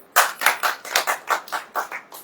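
A church congregation claps at a sermon: about nine crisp hand claps in a steady, slightly uneven rhythm, close and distinct against a quiet background.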